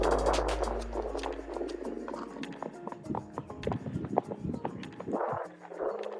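Horse hooves clip-clop in a quick, uneven rhythm at a horse riding place, fairly close, mixed with some background music and ambient noise.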